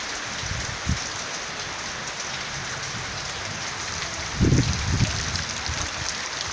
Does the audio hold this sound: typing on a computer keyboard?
no